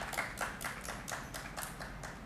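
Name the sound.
audience applause welcoming the speakers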